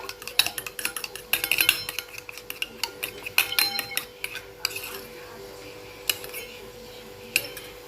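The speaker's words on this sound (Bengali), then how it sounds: "এই 3 রকম সস একসাথে দিয়ে এটাকে ভালো করে ফেটিয়ে নিতে হবে" Three sauces, including chilli sauce, are whisked together in a bowl, producing rapid clinking and tapping of a utensil against the bowl in uneven bursts that fade toward the end, with no speech.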